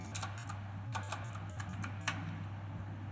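Someone types a commit summary on a computer keyboard. Quick, light key clicks come in an uneven run over a steady low hum, close and fairly quiet, with no talking.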